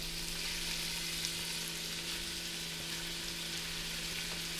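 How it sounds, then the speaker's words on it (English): Ground beef browning in olive oil in a pot for lasagna soup, giving a steady, dense sizzle and crackle that holds at an even level throughout, close up, with a faint low hum underneath and no voices. "I got a pound of ground beef, so I'm going to put that in here, let it brown"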